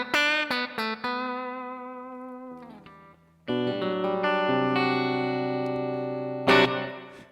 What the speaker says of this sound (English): big reverb sound.